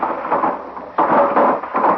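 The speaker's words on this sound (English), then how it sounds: "That thunderclap jarred it loose." A thunderclap during a downpour in an old western drama, heavy rumbling noise that surges suddenly halfway through, loud and close, with no voices.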